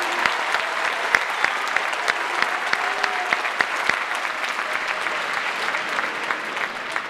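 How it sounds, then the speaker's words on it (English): A crowd gives sustained applause as a team stands to be recognized, producing dense, even clapping with a few sharper individual claps standing out against the steady wash. "they will applaud, I guarantee you."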